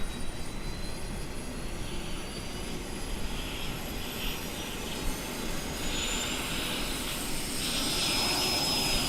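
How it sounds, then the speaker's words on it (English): Auxiliary power unit on a Fokker F28 airliner in a flight simulator spooling up, a steady loud turbine roar with a rising high whine, continuous and alone without talk. "They always spool up quite quickly, these smaller APUs."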